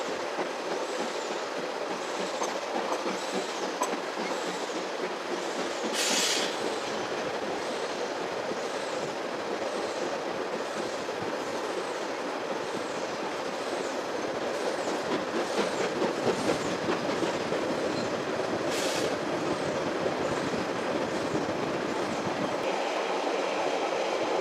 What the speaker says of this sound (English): While we wait for a coal train to pass at Cronadin